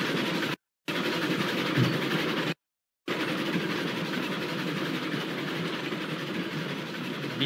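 Steady rumble of a locomotive running in the train simulation game Railroads Online, a continuous broadband rail drone with faint clickety-clack, interrupted twice by brief dropouts.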